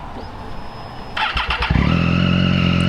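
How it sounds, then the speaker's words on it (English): A 2014 Triumph Daytona 675R sport motorcycle engine cranks and catches, then settles into a loud, steady idle with a deep exhaust rumble. "you got to pull the clutch in order to start it, but the exhaust sounds pretty good"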